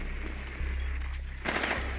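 Gunfire in Rainbow Six Siege, rapid repeated shots in quick bursts, a louder volley near the end over a low steady game hum.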